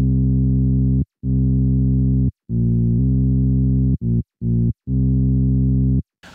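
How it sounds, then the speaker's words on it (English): Kee Bass sub-bass plugin at default settings plays a clean, fat sine bass: a series of sustained notes of varying length, separated by short gaps, with no talking. "This is a sub-bass plugin."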